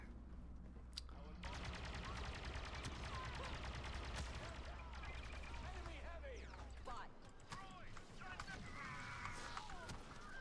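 Blaster and gunfire in the Star Wars Battlefront II story campaign: dense, continuous rapid shots and mechanical clatter over a low rumble, with a voice talking and chirping effects near the end.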